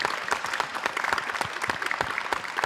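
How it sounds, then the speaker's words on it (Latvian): Studio audience applause welcoming a guest on a Latvian talk show: brisk, sharp individual claps forming a lively, even patter, fairly close and unaccompanied by speech. "noteikti vēlreiz ar aplausiem sagaidām Gustavu"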